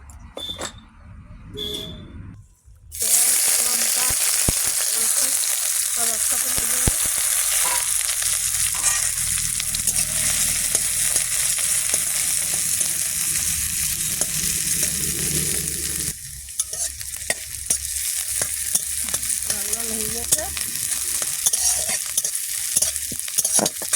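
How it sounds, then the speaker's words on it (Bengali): Oil sizzles loudly in a hot wok while vegetables are cooked and stirred, a constant crackling hiss with scraping stir strokes that begins after a brief quieter moment and then continues, with a slight change in texture partway through. "তেল দেবো কড়া গরম হয়ে গেছে কড়ায় তেল দিলাম"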